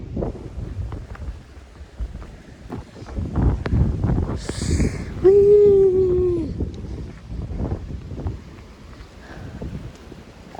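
Wind gusts blowing across a maize field, a steady rumbling roar with buffeting bursts against the microphone, rising and falling throughout, with a brief tonal call around the middle.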